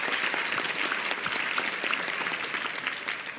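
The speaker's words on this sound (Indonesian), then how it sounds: "Tepuk tangan buat pertanyaan yang luar biasa" Dense, steady applause from a seated audience at a youth discussion event, continuous and fairly close, with no talk over it.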